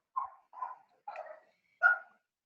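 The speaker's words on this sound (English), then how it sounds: "My dogs are barking." Dogs bark in four short, separate bursts with brief gaps between them, fairly loud and close against a quiet background, with no talking.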